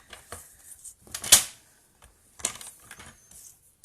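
Paper for a handmade card being cut on a trimmer: sparse close clicks and sharp slicing snaps, one louder cut standing out, with quiet gaps between.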